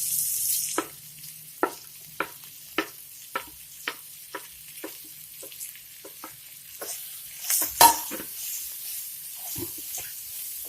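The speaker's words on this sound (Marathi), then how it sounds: "तेलात सगळीकडून व्यवस्थित तिला परतायची सगळा मसाला तिला लागायला पाहिजे" Long capsicum strips stir-fried in hot oil with spices for a besan simla mirch dish, giving a light steady sizzle broken by about a dozen sharp spatula scrapes and clinks, with a louder clatter near the end.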